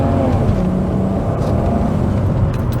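Turbocharged MK3 Toyota Supra engine accelerating under load, a loud harmonic drone with rising pitch heard from inside the car, continuous and close.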